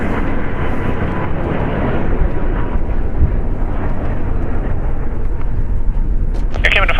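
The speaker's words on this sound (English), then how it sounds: "Departing is Air Canada Flight 55-3 going to Vancouver. It's a Boeing 737 MAX 8" Air Canada Boeing 737 MAX 8 departing LAX, heard as a loud, steady jet engine roar filling the whole stretch, with a brief high-pitched sound near the end.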